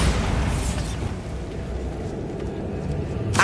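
A Bombarda spell explosion in the Hogwarts Legacy game, a loud booming blast with a rumbling roar that decays slowly over a few seconds, followed by a short sharp burst at the end.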